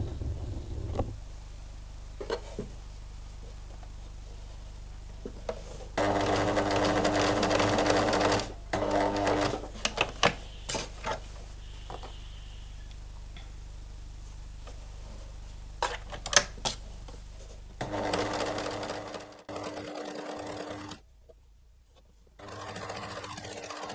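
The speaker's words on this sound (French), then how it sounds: "là maintenant on va pouvoir piquer tout le tour" A sewing machine stitches all the way around a garment being made from a shirt, running in loud, rapid mechanical bursts separated by pauses and small clicks as the fabric is turned, heard close up with no talk.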